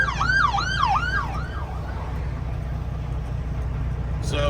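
Police patrol car sirens wailing on a highway near Daytona Beach during Biketoberfest, a rising-and-falling wail over a steady road rumble that fades out after a couple of seconds.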